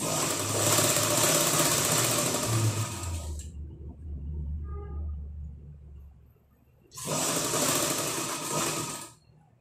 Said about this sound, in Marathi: आणि नेहमीप्रमाणे हे स्टिच करून घ्यायचं